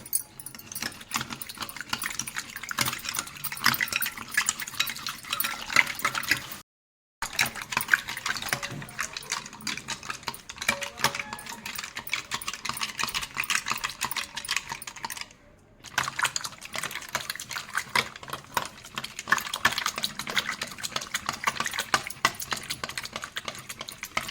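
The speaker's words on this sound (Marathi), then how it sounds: "ह्या रवीने ना चांगलं घुसळ घुसळ घ्यायचं आहे" Sweet lassi of milk and powdered sugar being churned with a wooden churner, giving steady rapid clattering and sloshing that continues for over twenty seconds with two brief pauses and no talk.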